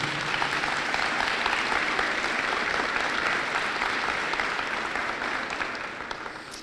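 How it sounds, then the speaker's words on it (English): Sustained audience applause fills an evening school district State of the District address, a dense steady clapping from a large crowd that holds loud and even before tapering slightly at the end. "If we could give them a round of applause."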